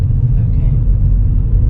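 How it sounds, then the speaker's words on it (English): A car engine hums as a low, steady rumble from inside the vehicle while driving on a small road during rush hour, constant throughout with no clear revving. "Listen to the engine."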